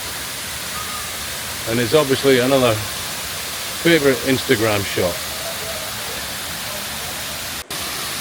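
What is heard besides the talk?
man-made waterfall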